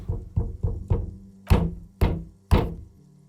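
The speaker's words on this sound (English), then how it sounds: "Let's knock." Knocking on a door in the video game Disco Elysium: four quick, muffled raps followed by three heavier, louder thuds, close and distinct with no talking.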